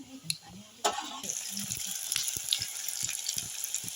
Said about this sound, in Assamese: কেৰাহী এখন গৰম হ'ল আৰু এতিয়া মিঠাতেল দি দিছোঁ আপুনি পাঁচফোৰণ কেইটামান দি দিলে